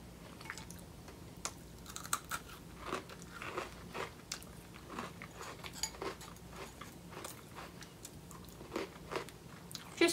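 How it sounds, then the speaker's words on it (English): Someone bites and chews an Oreo cookie close up, giving a steady run of crisp crunches and crackly chewing sounds over about ten seconds, with no talking. "Taste a piece of this cookie by itself."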